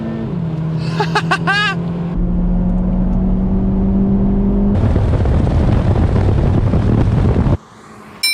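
VW T-Roc R four-wheel-drive SUV launching hard on a race track, engine droning loudly and steadily, then a burst of harsh roaring acceleration with heavy wind rush before dropping away at the end.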